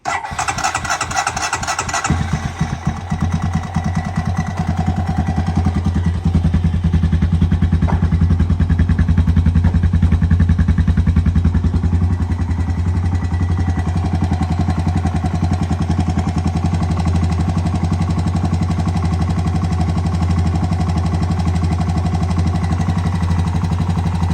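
A worn-out 2007 Honda TRX250TE ATV, smoking heavily, cranks with a rapid chugging starter burst for a couple of seconds, then catches and runs at a loud, steady mid-pitched idle close by.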